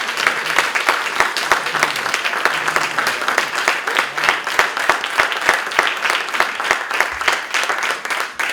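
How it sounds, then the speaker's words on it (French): An audience at a high-school students' film prize ceremony applauds, a dense, sustained round of clapping from many hands that stays loud and even throughout. "je pense qu'on peut les applaudir"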